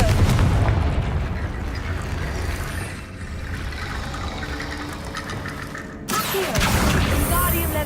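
The Confringo fire spell from the game Hogwarts Legacy goes off in loud, booming blasts with heavy rumbling, then briefly cuts out before another sharp burst.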